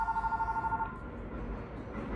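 A phone rings with an incoming spam call, a steady repeating electronic tone pulsing for under a second before cutting off, leaving low room noise behind.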